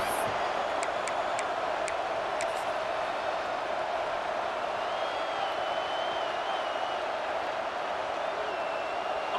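A stadium crowd in the College Football 26 video game roars in a steady, dense wall of cheering that holds loud throughout, with faint whistles and noisemakers on top.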